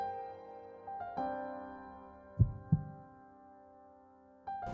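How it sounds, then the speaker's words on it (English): Two heavy, muffled heartbeat thumps land close together in the middle, a heartbeat sound effect from the Tsukihime visual novel game, set over a sustained, droning musical tone that swells in again at the end. "The sound of my heartbeat."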